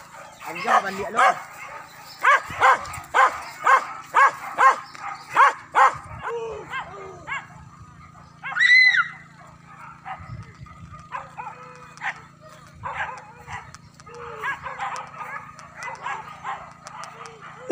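Hunting dogs bark rapidly and repeatedly during a wild boar hunt on a forested hill in Sijunjung, with shrill yips and whines and men calling out between the volleys.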